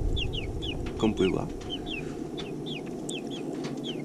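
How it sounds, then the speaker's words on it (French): Grown chicks in a garden make a run of faint, high, repeated peeps and chirps. A person speaks briefly over a steady low background. "Les poussins, qui ont bien grandi"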